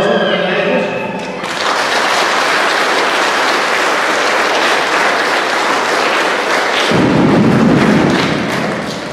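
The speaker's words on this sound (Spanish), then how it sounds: "Vamos a darles un aplauso también a ellos." Crowd applause at a church patron-saint festival in San Simon Almolongas, a sustained, loud wash of clapping over about nine seconds, with a low rumble or thud joining in the later part.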